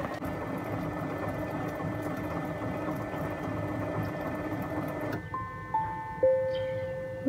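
A kitchen stand mixer runs at speed 2, kneading bread dough with a steady motor whir; after a few seconds the hum drops and thin beeping tones sound.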